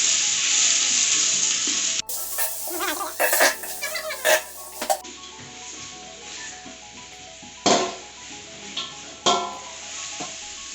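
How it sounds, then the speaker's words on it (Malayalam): Onions sautéing in a pan for a Malappuram-style biryani masala, a bright steady sizzle broken by clattering stirs and scrapes of a spoon against the pan, close and loud. "ഇനി നമുക്ക് മസാലയ്ക്കുള്ള ഉള്ളി വഴറ്റാം."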